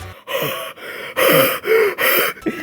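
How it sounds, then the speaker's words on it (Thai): A man forcing heavy, gasping breaths from his throat like an asthma attack, five loud rasping pants in quick uneven succession, close to the microphone with no talk. "เสียงเหมือนคนเป็นหอบหรือว่าคนพ่นกลิ่นปาก"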